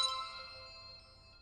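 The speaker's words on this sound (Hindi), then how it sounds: "अरे कपूर साहब का फोन" A mobile phone ringtone plays a bright, tonal electronic melody, clear and fairly close, fading slightly over a second and a half.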